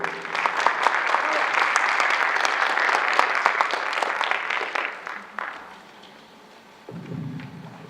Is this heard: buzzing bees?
no